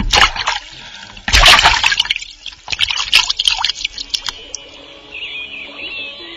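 Water splashes and trickles as fishermen cast a net into a river, with bursts of splashing followed by dripping and flowing water, close and fairly loud with bird chirps in the background.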